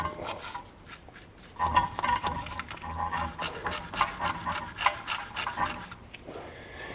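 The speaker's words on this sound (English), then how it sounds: "Just gonna take a little bit of the rust off the face of the piston here." The rusty face of a brake caliper piston on a Chevy Trax is being scrubbed with repeated close, rasping back-and-forth strokes, quick and uneven.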